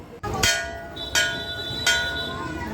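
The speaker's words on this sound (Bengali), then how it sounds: "আবার গিয়ে ঘন্টাটা বাজিয়ে দিলাম" A temple bell rung three times in steady succession, each bright metallic strike ringing on with a long shimmering tail, close and clear.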